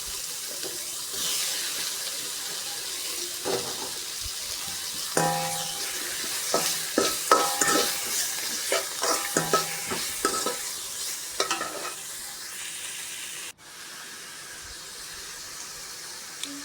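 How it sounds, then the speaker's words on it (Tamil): Onions, tomato and curry leaves frying in a pan for potato parotta filling, stirred with a utensil: steady sizzle under a busy run of close scraping and clinking stirs, no speech. "நல்லா வெங்காயத்தை வதக்கிக்கிடுவோம்."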